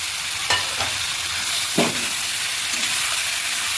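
Masala paste fries in a pan with koi fish, giving a steady close sizzle broken by a couple of sharp stirring scrapes; no one speaks.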